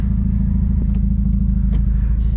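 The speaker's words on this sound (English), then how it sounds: "so Christian's car is like seems to be blipping in the low RPM" A Volvo 740 engine idles loudly with a low, throbbing rumble, steady and close, with slight uneven pulses in the drone as it blips at low RPM.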